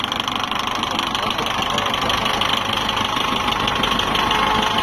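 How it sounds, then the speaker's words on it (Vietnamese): A tractor diesel engine runs close by with a steady, continuous drone and a knocking beat throughout, loud and unbroken, with no talk over it. "máy nổ hơi đã quá"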